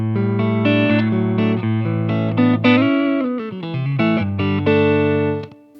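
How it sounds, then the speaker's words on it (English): Clean electric guitar through a Nace M3-7R combo amp, chords and single notes ringing with a light reverb tail, played alone at steady volume. "you can hear I've got just a touch of reverb on it right now"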